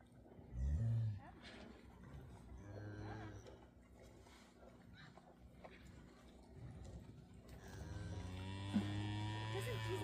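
Cows moo in a milking barn: a loud low moo near the start and several deeper lowing calls later, over barn machinery hum and background noise.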